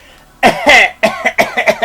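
A series of harsh coughs, close and loud, coming in quick bursts of two or three with short pauses between.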